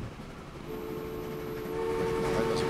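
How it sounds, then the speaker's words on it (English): A train in Transport Fever draws nearer, a rumbling rolling noise that slowly grows louder, with a steady horn-like tone sounding partway through. "But I do hear a train approaching."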